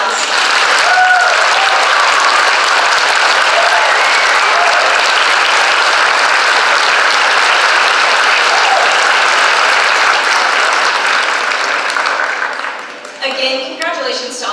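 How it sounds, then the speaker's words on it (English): A crowd at a school awards ceremony applauds honored students with steady, loud, sustained clapping that holds for about twelve seconds before tapering off, with a few voices at the end. "Now you can give all of these students a round of applause."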